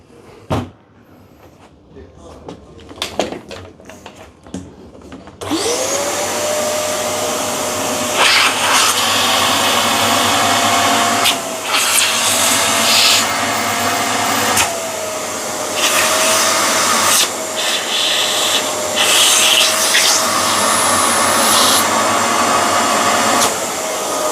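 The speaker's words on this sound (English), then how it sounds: "Okay, I'm just going to vacuum out" A few knocks and clatters, then a vacuum cleaner starts and runs loudly and steadily, its pitch shifting slightly as it works to clear a blockage.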